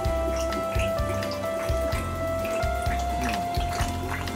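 Water gurgles steadily through an aquarium drain pipe with the valve fully open, a continuous bubbling and dripping wash with faint low rumbling, close and even throughout.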